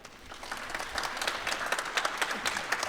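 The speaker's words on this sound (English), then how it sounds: "Round of applause." A round of applause from an audience at a women-in-motorcycling panel event, steady dense clapping held at moderate, somewhat distant level with faint crowd murmur beneath.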